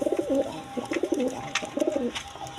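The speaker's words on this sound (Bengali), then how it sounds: "এখানে একটা নর কবুতর আছে" Indian Kaldom pigeons at a breeding farm coo in repeated low, throaty rolling phrases, close and fairly loud, alone without voices.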